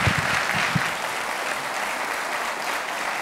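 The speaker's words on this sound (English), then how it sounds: "Please give these fine folks a round of applause." An audience at a speaker-series lecture claps in sustained, dense applause that fills the room at a steady level, with a few sharper claps standing out near the start.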